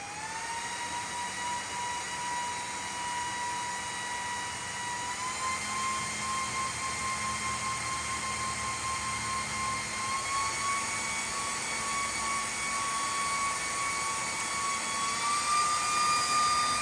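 GPU server cooling fans under an ESP32 fan controller whine loudly and steadily, their pitch slowly rising as they ramp toward full speed, a constant high-pitched mechanical drone.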